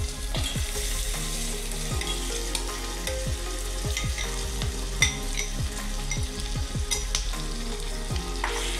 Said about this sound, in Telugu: మ్యారినేషన్ చేసి పెట్టుకున్న చికెన్ ఉంది కదా, దీంట్లో వేసేసుకున్నాం ఈ లివర్ అంతా